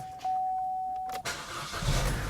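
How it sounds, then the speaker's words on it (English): A Chevrolet Cruze engine cranks and catches after a brief electronic tone, then settles into a close, rough idle. "I'm going to start the engine with him."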